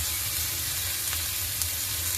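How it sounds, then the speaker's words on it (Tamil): Onions and green chillies sautéing in a pan, a continuous loud close sizzle with a faint rustle of stirring throughout. "வெங்காயம் வதங்கிடுச்சு."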